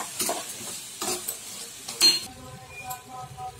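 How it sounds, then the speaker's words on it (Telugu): Ginger paste frying in a pan for potato kurma, stirred with a spoon: a few sharp scraping sizzle strokes, then quieter sizzling under a faint tonal background. "బాగా వేగనియాలి"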